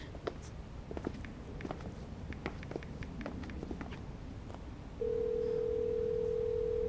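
A steady telephone ringback tone sounds over a call line, starting partway through after a stretch of faint background rustling and clicks.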